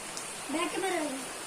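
Steady rain hiss fills the background while a voice sounds faintly over it.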